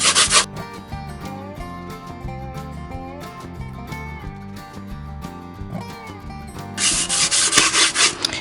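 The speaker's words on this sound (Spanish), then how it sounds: "Con un paño limpio de algodón le vamos a dar ese último toque y lo haremos en el sentido de la veta de la madera" A clean cotton cloth rubs over wood along the grain, giving rhythmic scrubbing strokes that sound brighter and louder at the start and end, with soft music playing underneath.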